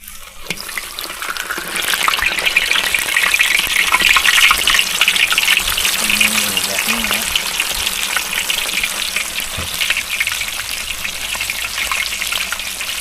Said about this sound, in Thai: นำตัวมาทอดเลย